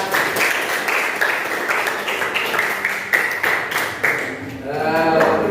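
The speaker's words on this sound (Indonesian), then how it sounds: "kasih aplaus untuk kawan kalian" Applause for a classmate in a school classroom lesson, several seconds of steady group clapping at moderate loudness, ending in a rising bright tone.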